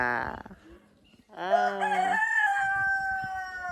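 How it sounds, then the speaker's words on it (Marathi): A farmyard rooster on a farm lets out a loud, close cock-a-doodle-doo crow lasting a couple of seconds, its drawn-out final note holding steady after a brief quieter pause with faint clucking. "कोंबडा बाग देतोय कुकू"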